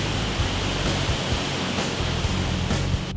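Falling water from a waterfall in a Norwegian fjord valley makes a dense, steady broadband rush with soft low surges, heard close and loud without any talking.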